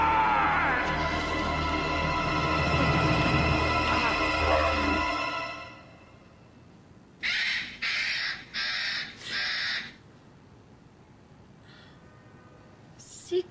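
A pet cockatoo squawks in a shop, four harsh loud calls in a quick row after a stretch of busy noise, then a faint cry and a brief sharp squawk at the end.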